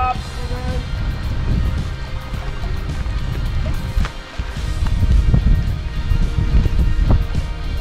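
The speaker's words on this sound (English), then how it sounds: "Windy day." Strong wind gusts roar across a lake at a campsite on a spring canoe trip, a loud continuous low rushing with fluctuating buffets.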